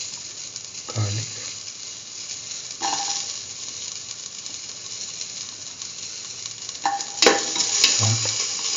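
Garlic sautés in a hot pan with a steady, close sizzle and hiss, broken by occasional scraping stirs of a utensil against the pan.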